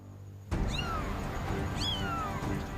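Two high, plaintive kitten meows, close and clear, separated by about a second over a splashing, noisy background as the kitten approaches a boat.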